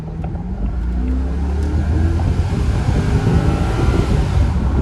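Loud, close engine of a 1999 Jaguar XK8 in sport mode, revved out to about 6,800 RPM, held at a steady roar with a low rumbling drone, slowly building under constant strain.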